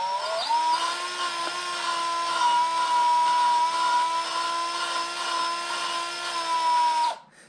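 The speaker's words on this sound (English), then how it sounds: "I'm using a drill." A power drill whines steadily for about seven seconds while lapping engine valves with lapping compound in an eBay cylinder head, its pitch holding nearly constant before the motor cuts off sharply.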